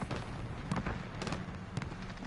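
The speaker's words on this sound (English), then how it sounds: "Got mortars incoming." Incoming mortar explosions in Call of Duty Modern Warfare rumble as a dense, continuous barrage of booms and crackling blasts, with a few sharper hits standing out over a loud battlefield wash.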